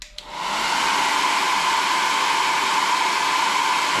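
A hair dryer switches on with a click and settles into a loud, steady close-up whoosh, used to shrink heat-shrink tubing onto a shoelace during a home shoe repair.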